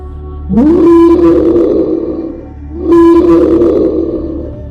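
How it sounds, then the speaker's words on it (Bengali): An angry, growling roar from the jungle as a sound effect: two long, loud roars, each rising into a sustained throaty tone and then fading into a rumbling growl. "শব্দটা শুনে এমন মনে হচ্ছিল যেন কেউ রাগে গড়গড় করছে"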